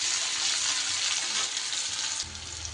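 Onions frying and being stirred in a pan for a fish curry with drumsticks, a steady close broadband sizzle with scraping stir noises throughout, easing slightly near the end.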